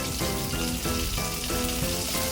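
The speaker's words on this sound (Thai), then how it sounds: "ผัดให้หอมไปก่อนเลย" Garlic and ginger stir-fried in a hot pan, a steady dense sizzle with rhythmic bursts as the pieces are tossed and scraped, loud and close throughout with no talking.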